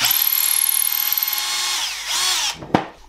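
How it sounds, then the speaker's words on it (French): A Bosch GSR 12 V cordless drill-driver whines loudly and steadily as the bit bores through the workpiece, the motor pitch dropping as it breaks through, then a sharp knock as it stops. "la poignée de la visseuse et la forme de la visseuse permettent quand même d'avoir à une main assez de puissance pour venir pousser la mèche dedans"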